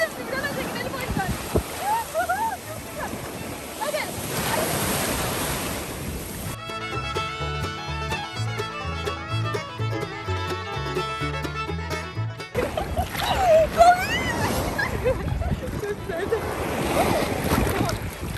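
Sea waves wash and splash around swimmers in the water at a beach, with wind rumbling over the microphone and voices at times, broken by a stretch of music in the middle.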